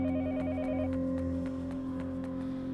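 A telephone rings in the video game Yomawari: Night Alone, a warbling electronic trill repeating briefly at the start while a steady drone and faint regular ticks carry on beneath.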